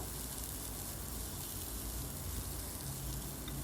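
Vegetables with garlic, chili flakes, salt and black pepper sizzle in a pan while being stirred, giving a soft, steady frying hiss with no voices.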